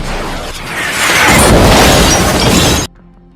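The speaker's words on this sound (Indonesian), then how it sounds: "sebuah pasukan tiba-tiba menembakkan misil ke arah mereka" A missile explosion from the action film Gemini Man erupts as a loud, dense shattering blast that roars for close to three seconds and then cuts off abruptly, leaving faint music.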